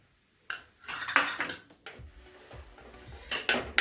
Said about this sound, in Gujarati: હવે આને ધીમા ગેસે હાવ શેકી લેવાનો છે. બે ચમચી જેટલું પાછું ઘી નાખવાનું છે.